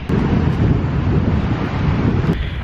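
Strong wind gusts across the icy Fimmvorduhals trail in Iceland, roaring and buffeting loudly and close against the microphone throughout, with no talking.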